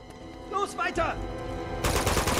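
Bursts of rapid machine gun fire in Uncharted 2: Among Thieves crackle under excited voices shouting, with a dense loud volley at the end.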